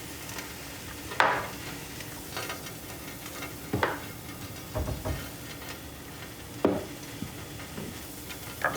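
Eggs frying in a pan alongside bagels give a soft steady sizzle, broken by several light clinks and scrapes of utensils against the pan.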